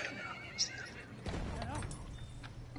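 Horse neighing in the video game Battlefield 1, a whinny amid hoof clip-clops and game battle noise, with players talking over it.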